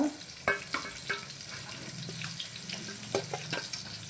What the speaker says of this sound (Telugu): ఇట్లా వేగినాయి చేప ముక్కలు